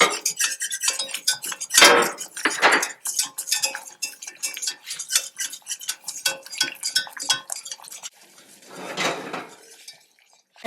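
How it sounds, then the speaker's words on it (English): A spoon or whisk stirring all-purpose flour into melted butter in a pot for turkey gravy, a quick run of clinking, scraping metal strokes against the pan, close and fairly loud, with a brief quieter stretch near the end. "Quickly stir."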